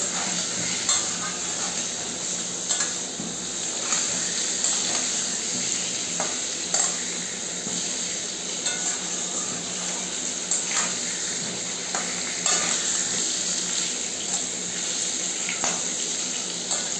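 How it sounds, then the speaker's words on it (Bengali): Potato pieces seasoned with salt and turmeric fry in a pan, giving a continuous even sizzle with scattered light clinks and scrapes of stirring, a long steady bed of crackle heard up close. "আলুগুলোকে আমি লাল লাল করে সুন্দর করে ভেজে নেব।"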